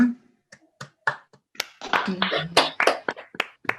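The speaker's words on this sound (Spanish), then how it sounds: "entonces con un gran aplauso" Scattered hand claps from a small group patter unevenly, building briefly into light applause, with a voice mixed in.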